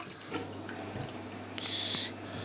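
Dry beans being rinsed in water, with a brief burst of running, splashing water near the end over a quiet room background.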